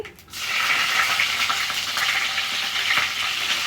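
Cumin seeds (shahi jeera) and two green chilies hit hot oil and crackle into a loud, steady sizzle, with light stirring scrapes underneath, close and continuous after a brief quiet start.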